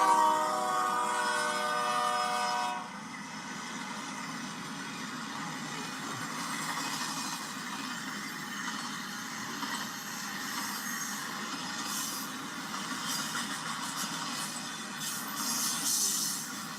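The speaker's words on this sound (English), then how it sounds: "This was a long train I was pulling. Mainly empties, it looks like." A long freight train of mostly empty cars rolls past, opening with a brief horn blast followed by a steady rumble and faint wheel squeal fading in and out.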